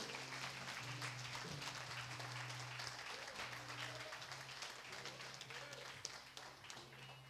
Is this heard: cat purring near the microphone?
no